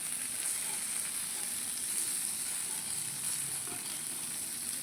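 Mangalore mackerel (bangude) coated in masala fries in a pan with curry leaves. The oil gives off a faint, steady sizzle close by, with soft scrapes now and then.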